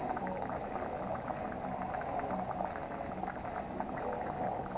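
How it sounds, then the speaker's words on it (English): Pork with bones simmers in a pot, a steady close bubbling and gurgling that carries on evenly throughout with no voices. "Pork is in, and it's simmering away."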